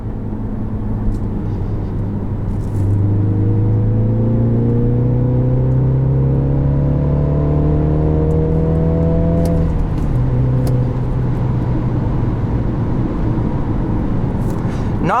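A 2017 Mini Countryman S with a manual gearbox accelerates hard, its small engine's pitch climbing steadily through a long gear, then dropping with a shift and still pulling, loud and close.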